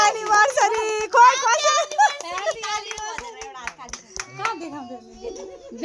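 People clapping at a family anniversary and birthday celebration at home, a few rhythmic claps mixed with lively overlapping voices of adults and children speaking and singing nearby.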